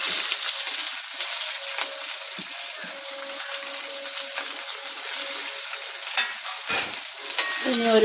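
Shallots, green chili, garlic and ginger sizzle steadily in hot oil after mustard seeds pop, while cooking a Kerala-style pachadi. The frying is loud and continuous, with a few stirring clinks and scrapes and no talking.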